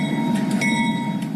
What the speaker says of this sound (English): David, as that Amtrak train pulls into Union Station here in Portland